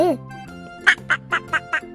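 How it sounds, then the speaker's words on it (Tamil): Five quick duck quacks in an even rhythm ring out over a soft musical backing, following a brief vocal sound at the start. "வாத்து எப்படி கத்தும்?"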